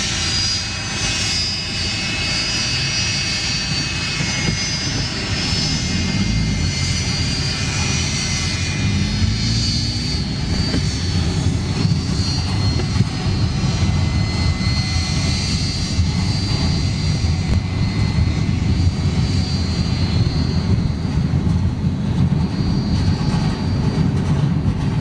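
Vietnam Airlines Boeing 747 arriving at Frankfurt airport, a steady, loud jet engine roar that holds level and close throughout with a broad low rumble.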